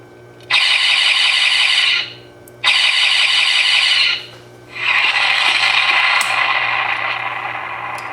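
A sound board in a USS Defiant starship model plays electronic effects: two hissing noise bursts, then a longer roaring blast representing an explosion that slowly fades, loud and close.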